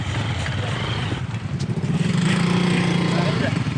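A motorcycle engine drones and revs on a mountain hiking trail up Mount Sumbing via Gajah Mungkur in Wonosobo, fairly loud and growing closer, with people talking nearby.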